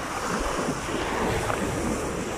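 Choppy sea waves wash steadily against a shore where fishing rods are set up, a constant loud rush of surf mixed with wind buffeting the microphone, with no voices.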